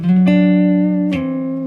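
Guitar playing minor sixth intervals, two sustained interval tones with a fresh attack near the start and another about a second later, clear and alone.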